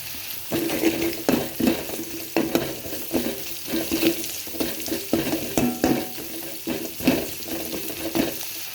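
Sliced onions and crushed garlic sauté in a pan for a Tamil maula meen fish curry, a steady sizzle broken by repeated rhythmic scraping stirs, close and moderately loud.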